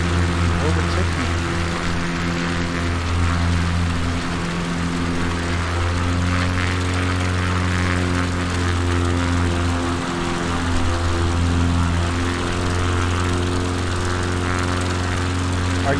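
CubCrafters NX Cub light aircraft in flight over New Zealand bush, a steady, loud, droning piston engine and propeller hum that holds constant throughout.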